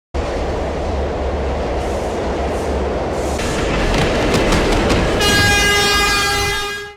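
A train rumbles steadily past close by, its noise building toward the end, where a sustained high, multi-tone horn blares loudly over the rolling rail noise.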